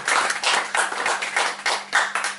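A small audience at a library book event applauds a guitarist, the clapping coming in uneven, close bursts that rise and dip over a couple of seconds.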